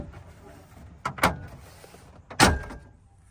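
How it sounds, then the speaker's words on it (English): Two quick plastic snaps and clicks as a GM dashboard gauge bezel is pried loose by hand, close and sharp with a brief pause between them over quiet room tone. "Now you need to pop the gauge bezel off of the dashboard"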